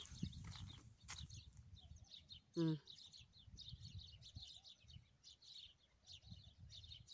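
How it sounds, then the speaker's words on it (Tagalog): Bird chirps and tweets scatter through an outdoor scene, with a person talking nearby and a brief louder knock partway through. "sarap pakinggan yung mga ibon"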